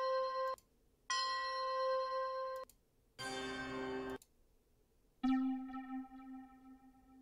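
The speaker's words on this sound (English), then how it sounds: "Trying to find a nice bell." Bell samples are auditioned one after another while building a beat: four separate clean, ringing bell tones, some held briefly and cut off, the last struck and left to decay slowly.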